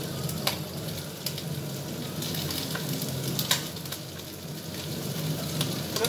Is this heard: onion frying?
yes